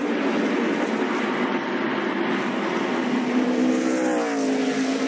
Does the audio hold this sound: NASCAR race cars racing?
yes